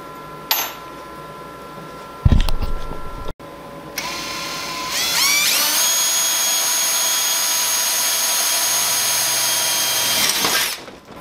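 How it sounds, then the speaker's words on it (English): A power drill boring 4 mm holes through the plastic front door panel of a HAF Stacker computer case: a few short bursts, then a loud, sustained, close whine lasting several seconds before it stops. "For the plastic side, I have to drill out to 4 millimeters for the inserts"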